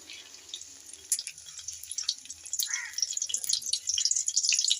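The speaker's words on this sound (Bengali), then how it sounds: "তেলটা আমার গরম হয়ে এসেছে, একটা তেজপাতা 2 টুকরো করে আমি তেলের মধ্যে দিয়ে দেবো।" Two pieces of bay leaf dropped into hot oil in a kadai set off a light sizzle and crackle that grows steadily louder and busier over a few seconds.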